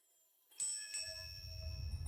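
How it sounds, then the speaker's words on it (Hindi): After a brief silence, a single bronze temple bell strikes and rings on with a clear, sustained metallic tone that slowly fades over a low rumble. "कांस्य घंटी बज उठी।"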